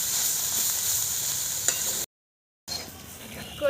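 Taro flowers fry in a pan with a bright, constant sizzle while being stirred, cut by a half-second gap of silence before the hiss resumes, close and moderate, no voices.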